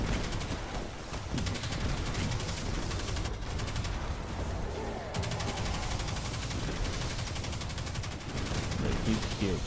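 Rapid gunfire from the video game Destiny 2 rattles steadily in dense bursts at close range for the whole stretch, with a voice faintly underneath.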